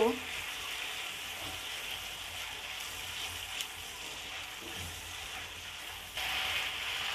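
Ginger, cumin and coriander paste stirred in a frying pan gives a steady, close sizzle throughout, with a few brief scraping bumps from the stirring and a slightly louder hiss near the end.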